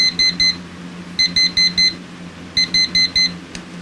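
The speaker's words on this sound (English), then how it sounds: "So I thought it was going to be your typical alarm clock sound." A Sharp/Elgin SPC692 alarm clock sounding its alarm: loud, close electronic beeps in repeated groups of four, with short pauses between the bursts.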